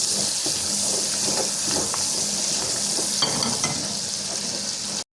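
Chopped onion sizzles and fries steadily in hot oil in a pan while being stirred, a loud continuous crackle with soft scraping clinks, no voices.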